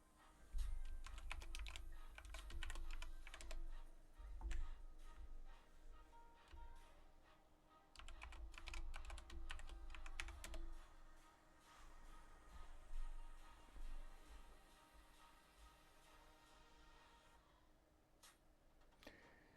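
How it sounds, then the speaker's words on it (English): Someone types a password on a computer keyboard, producing quick, close, faint clicking keystrokes in irregular bursts with short pauses between them. "then we'll have to enter our password"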